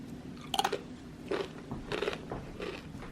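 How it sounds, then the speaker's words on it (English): Close crunching bites and chewing of multi-seed crisps, a few crisp bursts spread over a few seconds, loud and intimate with no talking. "And I like to eat it with these multi-seed crisps."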